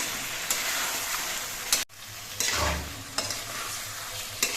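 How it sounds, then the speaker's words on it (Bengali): Mutton being slowly stir-fried in a pan over a medium flame for a long time. A steady sizzle is broken by scraping stirs and a brief pause mid-way, then the frying hiss resumes with periodic utensil knocks. "গ্যাসের ফ্লেমটা মাঝারিভাবে রেখে নিয়ে বেশ অনেকক্ষণ ধরে মাংসগুলো কিন্তু কষিয়ে নিতে হবে"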